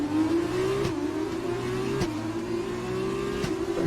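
Simulated F2 race car engine in a racing video game on the Baku street circuit, a steady droning whine with a few sharp gear-change blips, loud and continuous throughout.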